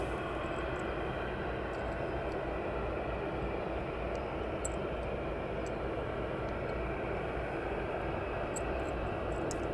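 Steady broadband roar of a West Atlantic aircraft at East Midlands Airport, a continuous engine drone held at constant loudness throughout with no voices.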